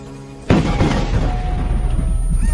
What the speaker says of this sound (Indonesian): bom yang meledak memaksa Seriosa harus melarikan diri dari tempat itu